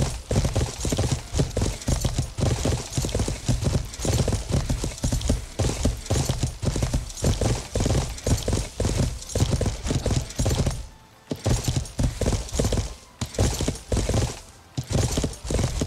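Horse hooves clip-clop in a fast, steady rhythm while riding in the video game Life is Feudal, loud and close, pausing briefly twice before resuming.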